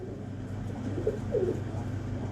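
A pigeon coos in a soft low rolling call, a couple of brief phrases close by over a steady background hum.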